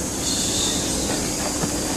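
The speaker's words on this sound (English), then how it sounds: "Yes. That's a train." A steady rumble and hiss of a train rolling along the tracks at a station, continuous and fairly close, with no voices.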